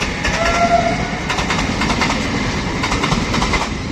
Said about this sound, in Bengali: শিয়ালদা সিউড়ি মেমু এক্সপ্রেস শিয়ালদা থেকে পাঁচটা সতেরোয় ছেড়েছে এখন সিউড়ির দিকে যাচ্ছে